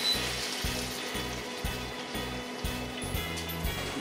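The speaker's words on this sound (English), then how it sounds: "to this, we're gonna add one can of coconut milk" A can of coconut milk poured into a hot pan over a stuffed chicken breast mixture, giving a steady sizzling, bubbling hiss with a pulsing rhythm, close and moderately loud, no voices.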